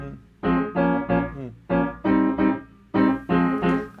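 Pop chord progression played on accompaniment piano, built on a minor five chord, with three groups of sustained chords in a steady phrase, close and moderately loud with no talking.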